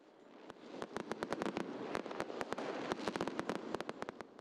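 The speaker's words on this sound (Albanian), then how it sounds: "në të gjitha sheshet janë hedhur fishek zjarre në mënyrë të organizuar" Organised New Year's Eve fireworks in public squares, a rapid irregular series of sharp distant bangs and cracks over a steady background roar, without speech.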